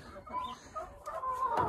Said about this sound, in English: Birds are nuts right now.